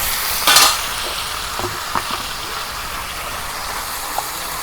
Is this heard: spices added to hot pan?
yes